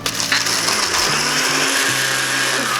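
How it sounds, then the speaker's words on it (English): Cheetos being powdered in a blender cup, a loud continuous motor whir with gritty rattling of the snack pieces churning throughout. "in your blender cup and start to powder our Cheetos"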